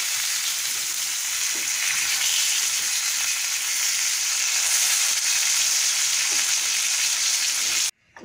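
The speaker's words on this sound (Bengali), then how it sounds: "আমার মাছগুলো ভাজা হয়ে গেছে, দুই পাশটাই আমার সুন্দর লাল হয়ে আসছে।" Fish fries in hot oil, a continuous close, even crackling sizzle that holds steady throughout before cutting off abruptly at the end.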